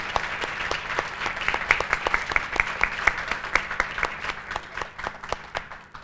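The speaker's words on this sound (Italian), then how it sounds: "e io farei anche un applauso" A small audience at a Milan food week event claps steadily, the individual claps distinct and fairly close, with the applause holding evenly and thinning slightly toward the end.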